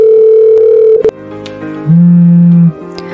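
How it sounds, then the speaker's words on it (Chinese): Telephone tones over a mobile phone on speakerphone: a steady electronic tone holds for about a second, then drops and shifts through lower sustained tones with short clicks between them, loud and close. "他拨了一个号，开了免提。"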